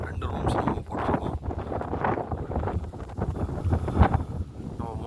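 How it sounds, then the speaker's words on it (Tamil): Strong wind at 4500 feet altitude buffets the microphone in rough, gusty roars while a person talks over it throughout. "அதனால் காற்று பயங்கரமாக அடிக்குது"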